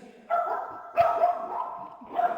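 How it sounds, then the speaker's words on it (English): A few short, sharp barks from dogs nearby, three bursts in quick succession with a yappy, high-pitched tone. "they barking at every dog"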